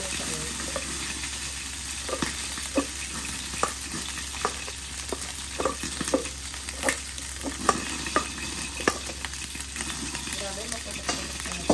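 Leftover rice frying in a pan, with a utensil scraping and stirring it in steady repeated strokes over a constant sizzle and faint running water; no talking.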